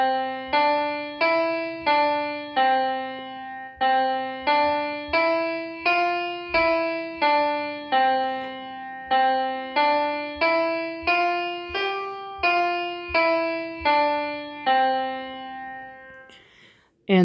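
An ascending additive pentatonic scale in a beginner do-re-mi lesson, sung or played as a steady chain of about twenty short evenly spaced tones in repeating groups, each step climbing in pitch, clear and alone.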